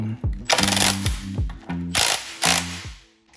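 A ratchet winds up fastened bolts on a Scott Bonnar Supercut model 17 countershaft, giving several close, loud bursts of rapid clicking separated by short pauses.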